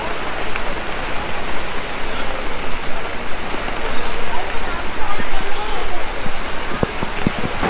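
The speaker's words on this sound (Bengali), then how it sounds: "আর বৃষ্টি পড়ছে বলে সব গাড়ি কিন্তু আমাদের গায়ে নয়" Steady rain at Sundarban falls as a dense, loud hiss across the whole stretch, with a few sharper drips and taps near the end, and voices can be made out under it.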